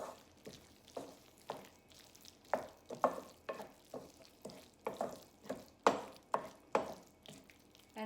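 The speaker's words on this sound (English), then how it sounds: "Gram flour gives wonderful aroma, so I will roast it tiny bit." Gram flour roasting in a pan, stirred with a spatula that scrapes in steady rhythmic strokes about once a second over a faint sizzle, close and clear with no talking.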